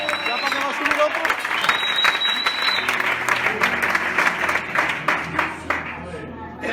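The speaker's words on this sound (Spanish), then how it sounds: "¡Aplausos para la gloria del Señor!" Applause from a congregation at the Iglesia Villaverde church service, a steady patter of many hands clapping at fairly even loudness, with faint voices and a brief high tone audible underneath.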